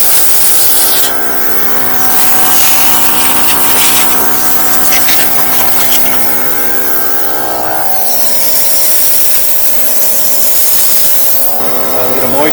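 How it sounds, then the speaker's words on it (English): A 12V two-cylinder portable air compressor runs continuously with a loud, steady mechanical drone and hiss, its tone shifting partway through as the load changes. "Wow, that's like an air compressor."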